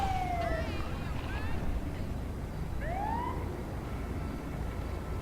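Ambulance siren in the LSPDFR police game, wailing sweeps that rise and fall at moderate distance over a constant rumble of engine and traffic noise.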